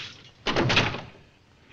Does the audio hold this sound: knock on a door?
yes